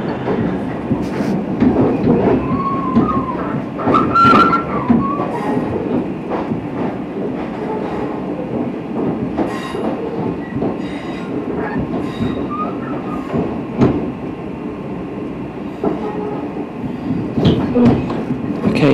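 A train pulls away from Glasgow, its wheels clattering and squealing on the rails with rhythmic clicks and rumbling carriage noise, heard from on board at a steady, fairly loud level.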